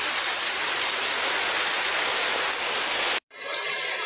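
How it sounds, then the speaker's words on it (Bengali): Steady rain pours down outdoors by a rural home, a dense, even hiss that stays loud throughout, broken by a brief silent dropout near the end before resuming. "তো এই যে বৃষ্টি শুরু হয়ে গেছে"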